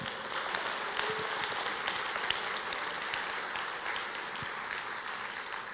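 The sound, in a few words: congregation applauding in church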